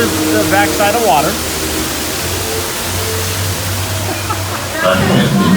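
Steady, rushing water from a waterfall roars on a theme-park boat ride past dinosaur figures, loud and continuous, while people talk over it.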